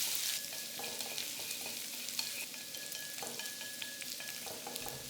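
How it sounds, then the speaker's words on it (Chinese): Dried shrimp and ginger stir-fried in a wok for winter melon soup, with a steady close sizzle and crackle broken by scraping stirs of the spatula, no voices. "虾米炒一炒后，姜也跟着进来，然后继续。"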